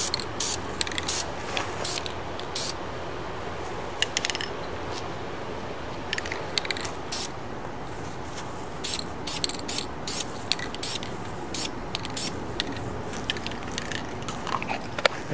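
A spray can lays a light coat of paint on a pipe T coupling in short hissing bursts with brief gaps, steady and close over a quiet background.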